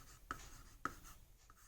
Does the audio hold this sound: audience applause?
no